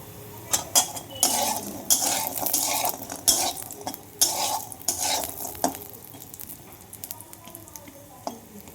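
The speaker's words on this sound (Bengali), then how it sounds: "এই বড়িটা ভেজে ওদিকে ঝোল ফুটছে, ঝোলের মধ্যে দিয়ে দেবো।" Lentil dumplings (bori) fry in a pan while a vegetable curry boils, with repeated loud clinks and scrapes of a metal utensil over a soft sizzle that fades toward the end.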